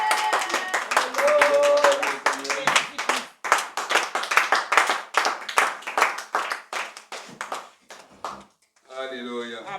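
A church congregation claps in rhythmic acclamation during worship, sharp regular hand claps mixed with singing or voices, then a brief pause followed by a voice at the end.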